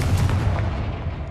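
A Confringo blasting spell in Hogwarts Legacy goes off as a single loud, close, rumbling burst with a crackling low-heavy body that fills the whole moment.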